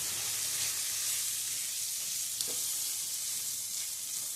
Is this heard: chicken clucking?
no